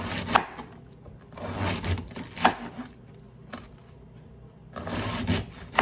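Cabbage sliced with a knife on a board, bursts of crisp crunching cuts and sharp taps in uneven groups with short pauses, close and fairly loud.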